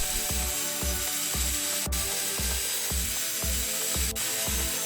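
Wood pieces are sawn to length for a small tray case in a workshop, the steady stroke-by-stroke rasp of the saw repeating evenly about twice a second over a constant background whir, close and fairly loud.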